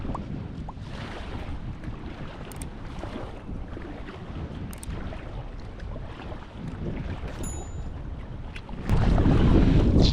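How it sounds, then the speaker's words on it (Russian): Strong headwind buffeting the microphone on a fast spring taiga river, with a steady broadband rush of wind and water throughout and a sharp, louder gust surge near the end. "но ветер встречный очень сильный"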